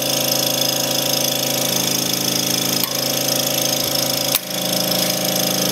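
A Welch 2025 self-cleaning dry vacuum pump running close and loud with a constant mechanical drone, broken by a couple of brief clicks and a short dip near the end.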